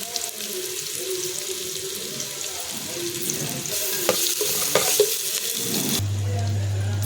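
Spices and ginger paste fry in hot oil with a steady close sizzle and brief louder crackles, then break off abruptly into a low, even hum near the end.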